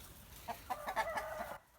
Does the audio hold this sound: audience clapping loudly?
no